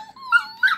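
Grumpy puppies whimpering and growling indoors, a couple of short high whiny cries with a low growl underneath, close and fairly soft.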